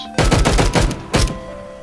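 A rapid, loud burst of video game gunfire, several shots in quick succession followed by one more short volley, close and punchy with no talk over it.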